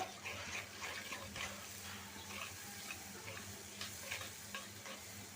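Spice paste with turmeric and salt sautés in a pan for a hilsa fish curry, a steady close sizzle broken by repeated scraping stirs of the spoon, with no talking.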